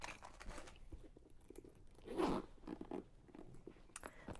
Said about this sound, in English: All that zips up and go like this, totally secure.